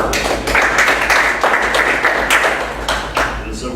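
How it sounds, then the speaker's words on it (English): Board members at a county board of supervisors meeting give a steady round of applause, close and fairly loud, with dense clapping that runs throughout and tapers slightly near the end. "Maybe board, we do a round of applause for"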